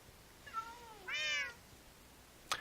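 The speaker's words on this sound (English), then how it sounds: "These cats seem to be harmless too." Cats meowing in a video game, two clear meows with rising and falling tones, the second louder and longer, followed by a brief sharp click; no talk.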